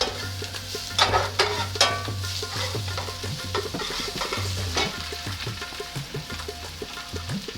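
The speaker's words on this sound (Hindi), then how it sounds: "हल्की सी प्याज ब्राउन होने पे मैंने इसमें डालना है 1 टीस्पून ज़ीरा और जनाब इसमें जाएगी 1 चम्मच लहसुन अदरक की पेस्ट" Cumin seeds and ginger garlic paste fry with lightly browned onions in a pot for Punjabi rajma masala, a steady close sizzle broken by repeated spoon stirring and scraping clinks.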